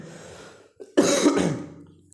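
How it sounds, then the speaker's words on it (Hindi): A person coughs and clears their throat during a class 12 biology lesson, a brief throat-clearing sound followed by a louder, harsh cough burst that fades over about a second, close and alone without talk. "सॉरी, क्योंकि मुझे खांसी आ रही है।"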